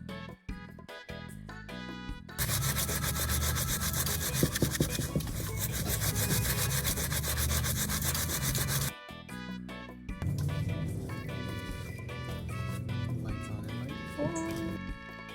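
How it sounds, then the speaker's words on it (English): Steady rubbing and rasping of 400-grit sandpaper scuffing the leather of an Air Force sneaker, a continuous scratchy stroke running several seconds near the mic, with short pauses and handling noises before and after. "we're going to start with this sandpaper here. I'm going to start with 400 and see how that goes."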